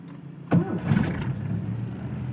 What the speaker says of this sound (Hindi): ये होगी गाड़ी स्टार्ट